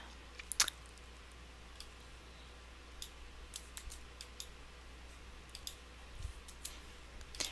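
Soft, crisp computer mouse clicks, a handful spaced irregularly over several seconds, close and quiet against a low steady hum while building a website menu, with no talk.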